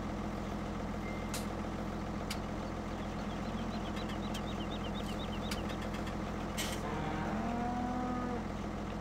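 Cows moo in Farming Simulator 2017 on the West Coast map, a few drawn-out calls near the end over a steady engine hum and farm-machinery drone, with faint beeps in the background.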